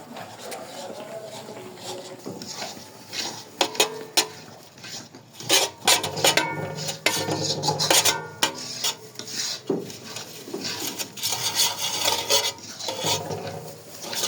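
A spoon scraping and stirring a thick milk barfi mixture with ghee in a pan, irregular rasping strokes and clinks against the metal, loud and close, with occasional speech in between.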